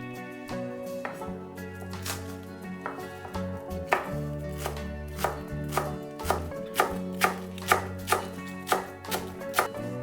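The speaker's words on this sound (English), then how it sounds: "Mince the spring onion, the gogai, and the cilantro." A knife mincing spring onion, gogai and cilantro on a cutting board, with irregular taps at first that settle into a steady, fairly brisk rhythm of sharp chops close by.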